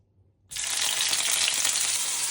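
A sudden loud sizzle as chopped snake gourd seeds drop into hot ghee, then steady crackling frying that continues without a break.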